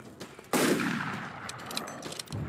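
Gunfire in the Skinwalker Hunt video game: a loud sudden blast followed by a long decaying roar and a few faint later pops, heard alone.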